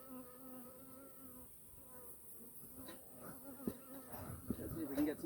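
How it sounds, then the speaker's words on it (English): Honey bees swarm and buzz around an open backyard hive being smoked during an inspection, a steady droning hum that grows louder and busier near the end. "And this bee doesn't like me none."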